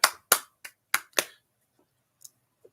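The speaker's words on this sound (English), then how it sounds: "Let's give a round of applause for Zane Scott, everyone" Five sharp, separate claps spread over the first second and a half, then two faint taps, loud and close with no voices, given as applause for a guest of a podcast episode.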